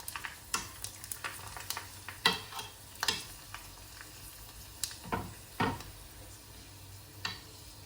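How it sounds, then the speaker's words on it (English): Crispy salmon sushi frying in oil, a soft sizzle under irregular stirring clicks and scrapes of a utensil, close and fairly quiet with no talking. "I'm going to fry it."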